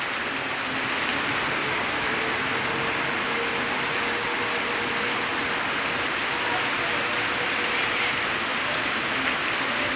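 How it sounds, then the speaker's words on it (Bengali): Heavy rain pouring down in a dense, steady hiss that fills the whole stretch, close and unbroken, with no other distinct sounds standing out. "মুষলধারে বৃষ্টি হচ্ছে।"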